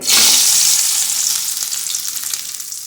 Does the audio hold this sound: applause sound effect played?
no